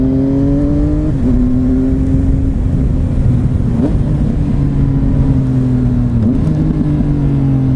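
A 2018 Triumph Speed Triple RS motorcycle engine rasping loudly at close range, holding steady revs with a few quick throttle blips and gear changes along the way.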